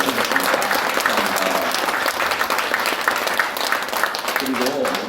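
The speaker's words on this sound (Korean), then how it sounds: "하나님께 우리 감사의 박수를 한번 더 올려드리도록 하겠습니다" A church congregation breaks into sustained applause of thanks during a Korean worship service, a dense roomful of clapping that stays loud and even throughout, with voices mixed in.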